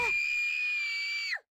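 A loud, sustained scream from a character in the video game Grandia 2, held steady for over a second and then cutting off sharply, heard alone without other sounds.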